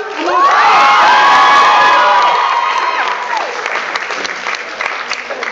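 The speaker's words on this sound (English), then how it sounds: "Can I get a round of applause" A youth audience bursts into loud applause with cheering, high whoops and children shouting at first, then settles into steadier clapping that gradually softens.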